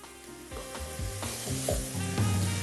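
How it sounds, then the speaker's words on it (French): Spices, hot peppers and ras el hanout mixture stirred in a frying pan, steady close sizzle with scraping stir strokes throughout, no talking. "Alors, on va bien mélanger, on va faire suer tout cela."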